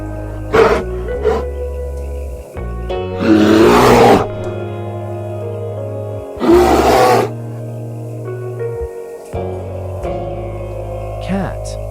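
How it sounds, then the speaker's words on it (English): Bear vocalizing: deep growling roars and grunts in several bursts, with loud rough breathy outbursts around the middle, separated by short pauses, heard close up and alone. "Bear."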